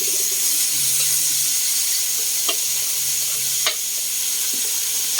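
Garlic, onion and tomato sautéing in a pan for a kangkong dish, a steady close sizzle and hiss with a few brief stirring clinks and scrapes.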